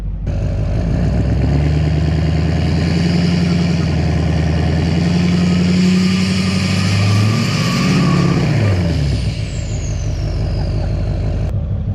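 A Duramax pickup in 2-wheel drive strains to pull a tractor, its engine droning steadily loud and near, with a rising whine and pitch sweep late in the pull.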